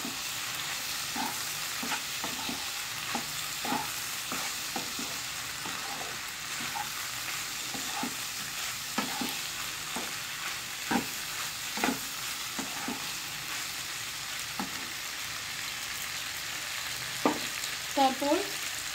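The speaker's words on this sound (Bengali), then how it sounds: "দিয়ে এটাকে ভালোভাবে একটু নেড়ে চেড়ে নিতে হবে।" Chicken pasta with a pinch of ajwain is stirred in a frying pan, a soft, continuous sizzle with regular light scrapes and taps of the spoon against the pan over many seconds. There are no voices.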